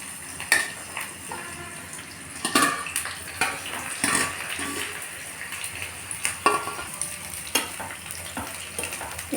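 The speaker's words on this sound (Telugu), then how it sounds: "ఇవి కాకరకాయలు వేయించేసుకొని తీసుకోవాలండి" Bitter gourd pieces frying in hot oil in a kadai, a soft continuous sizzle broken by repeated clinks and scrapes of a spatula against the metal pan, close up and with no voices.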